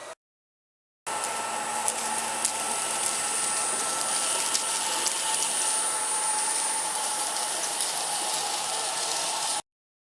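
A Jimmy JV63 vacuum cleaner at maximum power with its scrubbing brush runs over a dirt-strewn carpet, a steady, loud whine and airy roar that starts abruptly and cuts off near the end, with faint rattling of debris.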